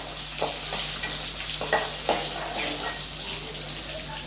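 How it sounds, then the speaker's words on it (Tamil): Peeled, chopped small onions sautéing in oil in a pan for a fish curry: a steady, dense sizzle running throughout, with a few soft stirring scrapes over it, close and even in level. "வெங்காயம் நல்லா வதங்கிட்டு இருக்கட்டும்."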